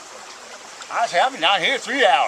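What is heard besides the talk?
creek water flowing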